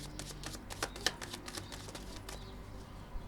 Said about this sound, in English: I'm gonna start putting the cards,